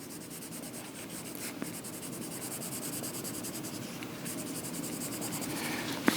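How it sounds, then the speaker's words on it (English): A pencil's side is rubbed back and forth across paper to shade an area of a cartoon drawing. It makes a soft, continuous scratchy rasp, faint and close, with steady strokes and a small tap at the end. "Just color that in with the side of your pencil there."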